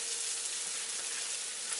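Chopped onion and garlic sizzle quietly in a hot pan while making a vegan dinner with tempeh, a steady soft crackling hiss with no pauses and no talking.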